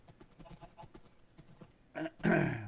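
Horse in the Minecraft video game, clip-clop hoofbeats tapping along in an uneven rhythm before a loud neigh-like whinny bursts out near the end.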